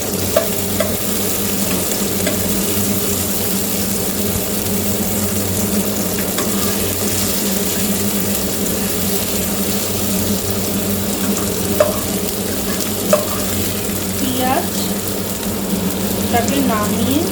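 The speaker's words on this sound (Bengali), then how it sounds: "ভালো করে সটে করে নিই।" Onions, tomatoes, garlic, ginger and chillies sauté in a pan, giving a steady, close sizzle with occasional stirring scrapes throughout.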